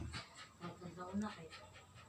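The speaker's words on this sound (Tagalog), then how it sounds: "aso ko sa likod, maingay" Quick, rhythmic panting breaths from a dog riding on the back of an e-bike, close by, repeating steadily with a faint whimper.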